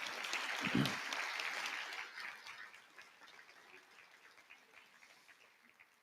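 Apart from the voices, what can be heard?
applause for educators at an awards ceremony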